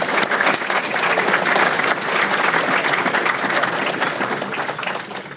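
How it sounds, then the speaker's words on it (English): Audience applause fills an annual business chamber dinner, a dense, steady wash of clapping from a large crowd that holds loud for about five seconds before tapering slightly at the end. "Give him another round of applause."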